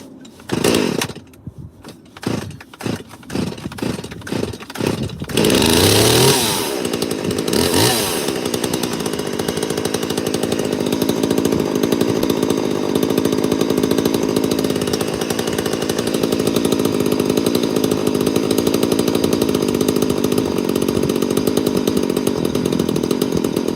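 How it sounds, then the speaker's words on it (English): A stock Husqvarna-style 192 chainsaw first pulled several times, then catching and screaming at high RPM, loud, close and sustained with a brief rev dip near the start. "scary RPMs for a bloody stock saw. Alright, 192, one more go."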